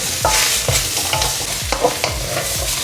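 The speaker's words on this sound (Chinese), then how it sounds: "要一直炒到萝卜边缘有一点透明感，才开始调味。" Sliced white radish stir-fried in oil in a pan, with steady sizzling and repeated scraping strokes of a spatula turning the pieces at a quick rhythm, close and alone.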